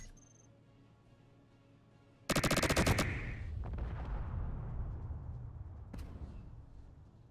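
A video game tank's machine gun fires at an extreme 50,000 rounds per minute, erupting after a quiet stretch into a loud, dense roar of rapid shots that decays into a rumbling wash with one later sharp crack.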